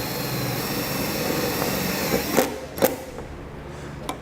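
A power drill whirs steadily as it drives a self-tapping screw into the body of a 2014 Chevrolet Equinox for a trailer wiring ground, then stops, followed by a couple of sharp clicks.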